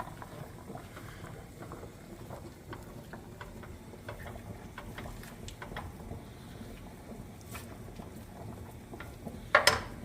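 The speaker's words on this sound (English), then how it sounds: "we're going to start cooking our meat on medium" Sweet Italian sausage and ground beef cook in a pan over medium heat, giving a low, steady sizzle with scattered light clicks and scrapes of utensils and one sharp clatter near the end.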